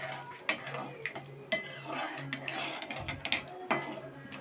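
Mustard and cumin seeds crackling in hot oil in a pan, heard as scattered sharp pops and faint scraping over a low sizzle, fairly quiet and close, no voices.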